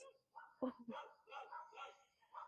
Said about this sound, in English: somebody came, so the dogs are going to be a bit wild